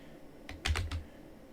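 Quick typing on a computer keyboard while entering a slash search in a Linux terminal: four or five light clicks in a short burst, close and alone.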